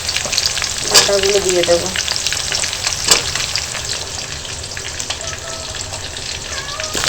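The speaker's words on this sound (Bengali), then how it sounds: "এইভাবে নাড়াচাড়া করে একটু ভাজতে থাকবো" Gourd leaf stems fry in a pan and are stirred, with a steady close sizzle and scraping stir sounds throughout, two sharper clatters near the start, and a brief spoken phrase early on.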